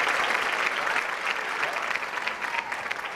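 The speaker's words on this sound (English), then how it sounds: "a bit more of a clap, a bit more" A studio audience at a television comedy show claps in a dense, continuous wash of applause, loud and sustained throughout, easing slightly near the end.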